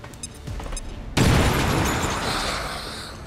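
A grenade explodes in XCOM 2 with a sudden loud boom after a few faint clicks, followed by a long rumbling roar and debris that slowly fades.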